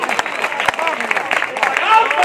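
An audience at a Hindi poetry recital (kavi sammelan) claps in a dense patter of applause, fairly close, while a speaker's voice continues over it.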